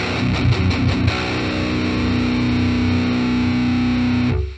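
High-gain distorted electric guitar tuned two and a half steps down to B, run through a preamp, plays a few choppy palm-muted chugs and then rings out one long sustained chord that cuts off sharply near the end.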